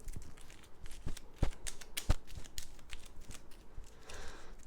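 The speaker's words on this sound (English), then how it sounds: "we'll shuffle this up as well" Close, crisp riffling and tapping of a card deck being shuffled, with quick bursts of flicking and a few sharp snaps.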